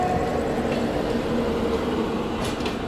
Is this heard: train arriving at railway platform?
yes